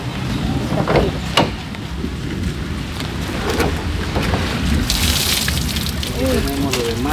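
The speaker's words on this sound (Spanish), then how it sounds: "Ahorita pues todavía sigue la lluvia, yo creo que va a seguir lloviendo" Steady rain on flooded land after a storm, a broad wash of falling water with scattered sharper splashes and a brief hissing surge, fairly loud and close, with some faint background sounds.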